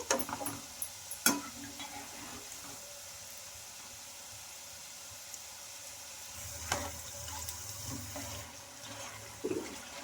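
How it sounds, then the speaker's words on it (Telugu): Homemade kurkure made from ration rice frying in oil and being stirred, a soft bubbling sizzle with scattered clicks and scrapes of a spoon against the pan, close by and fairly quiet, with no voices. "బాగా ఇలా కలుపుకుంటూ బాగా ఫ్రై చేసుకోవాలి మనకు క్రిస్పీగా అయ్యే వరకు"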